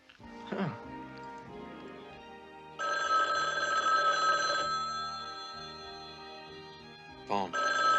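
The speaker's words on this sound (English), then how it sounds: "Phone." A telephone rings in a crime drama scene, its electronic bell sounding in bursts that start and stop over several seconds, loud and close, with brief low speech between rings.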